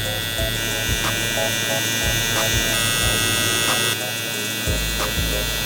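A Low Pro FX hair trimmer lines up a mid fade haircut, its steady close electric buzz running throughout, with short regular strokes and brief pauses as it follows the hair's growth direction.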